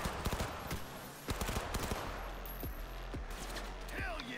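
Rapid bursts of automatic gunfire from the video game Cyberpunk, a quick fusillade of sharp shots in clusters with short pauses, fairly faint and mixed with game effects.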